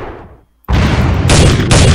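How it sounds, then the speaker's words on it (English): Sniper rifle gunfire in a military video game: a quiet tail of a shot fades to near silence, then loud blasts of gunfire burst in and continue, with no talk. "Who's trying to shoot me with a sniper on that roof?"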